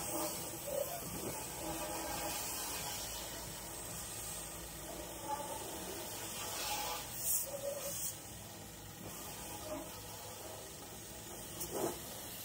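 Water spray washing a Suzuki motorcycle fuel-injected engine's fuel tank, a continuous soft hissing jet with small surges and splashes, moderately quiet and close.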